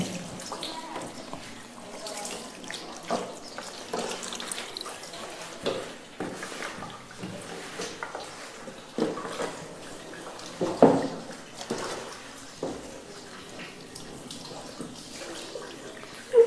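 Water is poured over a deceased body during Shia ritual washing, coming as intermittent close splashes, pours and drips while a voice speaks at times in between.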